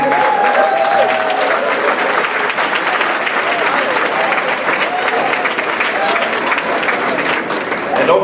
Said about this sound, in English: Can we give another big round of applause for Miss Cicely Tyson?